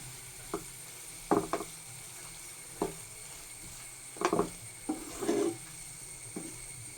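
Garlic and ginger paste sautéing in a pan gives a soft, steady sizzle broken by several sharp scrapes and stirring clatters spaced irregularly, close and fairly quiet.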